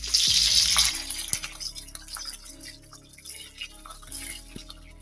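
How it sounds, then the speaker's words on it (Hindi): Cauliflower pieces go into hot oil for an aloo gobhi matar dish, giving an initial burst of sizzling hiss that settles into faint crackles and pops, close by and fairly quiet. "गोभी तलने के लिए डाल देंगे।"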